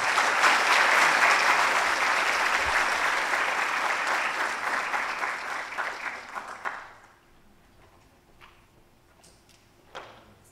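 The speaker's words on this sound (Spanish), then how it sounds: "Un fuerte aplauso para nuestra invitada y bienvenida" A conference audience at an electoral justice event welcomes a guest with strong, sustained applause that fades out after about seven seconds, leaving a quiet room with faint shuffling and a stray tap.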